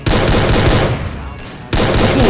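Rapid bursts of automatic gunfire in the battle-royale game Free Fire, loud and close, with a brief lull in the middle before firing resumes.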